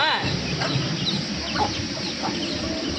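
Chickens pecking at rice on a farm cluck continuously up close, several birds overlapping in a busy, loud chorus with scattered sharper calls.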